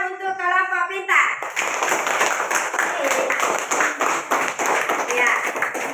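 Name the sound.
children clapping for a group in class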